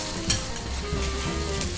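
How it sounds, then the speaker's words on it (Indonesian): Garlic sautéing in a pan gives a steady sizzle with stirring, a brief louder clatter early on, and no voices. "Cara memasaknya, tumis bawang putih,"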